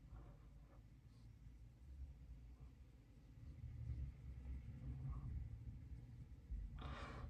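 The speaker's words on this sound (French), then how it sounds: "Si vous entendez toutes les voitures qui passent, etc., c'est parce que la fenêtre est ouverte" Cars pass by on a road right beside an open window, making a faint, steady low rumble of traffic that swells and fades slightly. Indoors and distant, with no talk.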